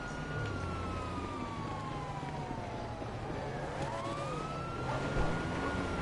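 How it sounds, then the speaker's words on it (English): A police car siren in the video game GTA 5 wails in slow rising and falling sweeps, steady and fairly prominent over a constant background rumble of traffic. "make sure that cop car has a siren or something"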